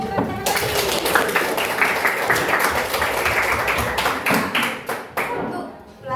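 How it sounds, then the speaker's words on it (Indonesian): Students in a classroom burst into sustained applause, a dense wash of many hands clapping for about five seconds before tapering off into a few scattered claps. "Kita beri tepuk tangan lagi."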